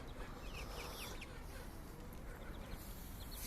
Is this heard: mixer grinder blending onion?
no